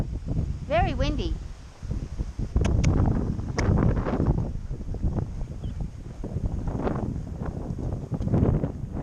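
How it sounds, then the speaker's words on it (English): Strong gusts buffet the microphone outdoors during a windy horseback ride in January, a steady rushing roar running through the whole stretch beneath a person talking and urging on a horse. "The wind is crazy."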